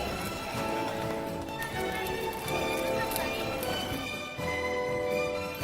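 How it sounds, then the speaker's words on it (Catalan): A Spanish-style horse with its saddle and tack in the arena at a Tres Tombs festival, hooves clip-clopping in a steady rhythm beneath a continuous announcer's voice over a loudspeaker, with crowd ambience. "Un cavall molt espanyolat, vegin, amb la seva muntura, en Vicenç."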